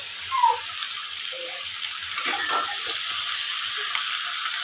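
Dhaba-style potato and cauliflower fry in a pan with a continuous hiss and crackle, broken by a few soft stirring scrapes and knocks.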